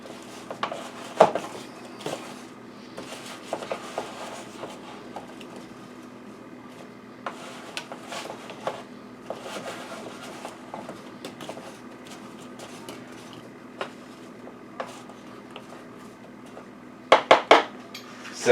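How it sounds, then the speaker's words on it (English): Apples get stirred in a bowl to coat them with batter, with soft scraping and intermittent clinks of a utensil against the dish, a louder cluster of taps near the end. "I'm going to mix this up to coat"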